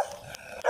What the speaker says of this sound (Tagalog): Sinahabol ako ng aso guys.